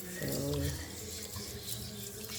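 Tap water runs into a sink while rice is washed, a soft steady splashing hiss with a brief low swirl near the start.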